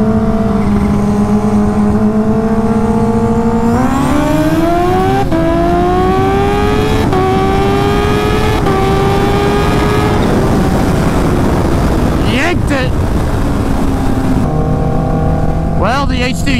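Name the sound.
stretched Kawasaki Ninja H2 racing a turbo Hayabusa motorcycle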